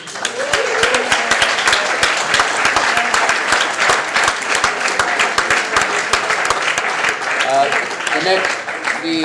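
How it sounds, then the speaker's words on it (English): A crowd at a New York City game developers' demo night bursts into loud, sustained applause, with sharp individual claps standing out and voices talking and whooping underneath. "One more round of applause for Games Made in New York City"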